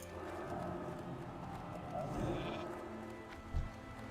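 Sheep bleating from a polymorph spell in Classic World of Warcraft, a short faint bleat amid game sounds and ambient noise, with a brief thump near the end.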